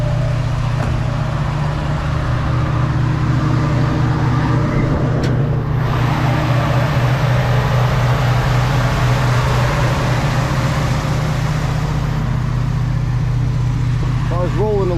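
The engine of a 1966 Ford Mustang idles under the open hood with a steady, loud low rumble and hum that holds evenly throughout, with faint clicks and shifts on top.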